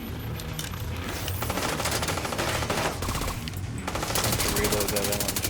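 Light machine gun fire in The Division 2, long rapid bursts of loud automatic shots with brief pauses between them, mixed with other gunfire and someone speaking over the shooting.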